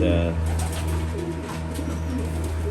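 Pigeons coo steadily in a loft where nesting birds and young are kept, a soft, continuous low cooing close by beneath someone talking.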